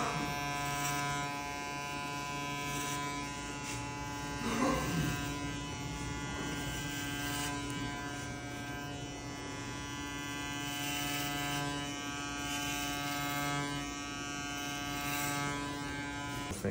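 Electric hair clippers cutting afro hair to shape a fade, a steady close buzzing hum with strong harmonic whine that runs without a break, shifting slightly as the blade moves through the hair.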